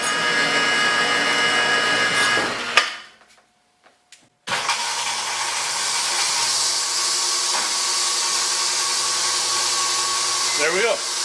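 A Covington 30-inch rock saw runs with a steady, loud motor drone and blade noise while cutting rock, cutting out briefly near the start before restarting and continuing steadily.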